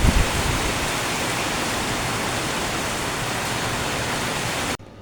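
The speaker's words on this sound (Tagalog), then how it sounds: "Lakas ng ulan sa amin dito guys," Heavy rain pours down steadily in a dense, even hiss that fills the space close by, with no voices, then cuts off abruptly near the end.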